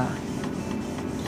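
A Canon G1000 inkjet printer printing a page, giving a short stretch of steady mechanical whirring and rhythmic feed clatter at close range.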